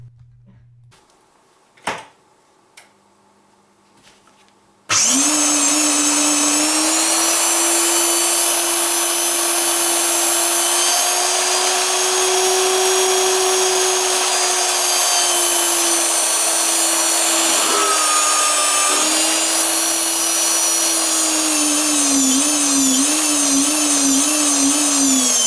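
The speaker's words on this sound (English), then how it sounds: "we will use this old power drill here to test the circuit" An old power drill, powered through a modified full-wave motor test circuit, switches on with a sudden whine and runs steadily and loudly for twenty seconds, its pitch wavering slightly, after a few quiet clicks beforehand.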